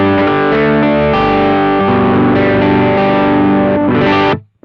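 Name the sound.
electric guitar chords through BOSS OD-3 overdrive pedal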